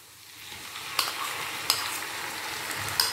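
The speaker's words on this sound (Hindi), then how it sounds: "प्याज को करना है बिल्कुल गोल्डन ब्राउन यानी कि बहुत ही अच्छी तरह भून लेना है इसे" Onion paste frying in a pan for a spiced jackfruit curry, a steady close sizzle with a few sharp clicks of stirring, no voices.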